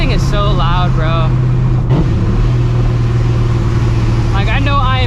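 A loud Shelby GT350 Mustang engine drones steadily while driving, a constant heavy rumble running under a voice at the start and end.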